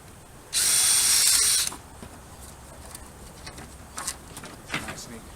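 A drill bores a single brief pilot hole into a soft pine furring strip, a loud burst of about a second, followed by quiet outdoor background with faint bird calls.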